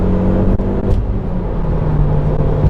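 A 2000 Audi TT 225 8N Mk1 turbo with a six-speed gearbox pulls hard through the gears, its engine droning loudly and steadily from inside the cabin with no pauses.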